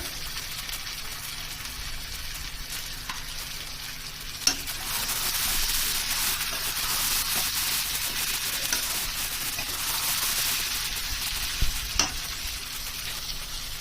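Chicken curry with sugar, meat masala and kasuri methi is stirred in a hot pan, producing a continuous moderate sizzle and scraping with a few sharp clicks of the spoon against the pan.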